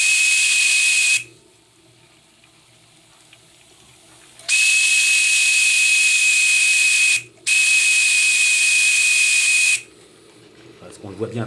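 Live steam boat's gas regulator on a launch vents steam in two loud, steady hissing bursts of about three seconds each, separated by quiet gaps, with a faint clatter at the end.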